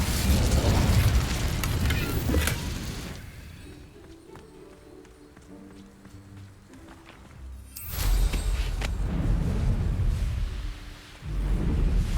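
Incendio fire spell cast in Hogwarts Legacy, erupting as loud fiery bursts at the start and again later, with quieter game ambience and low rumbles in between.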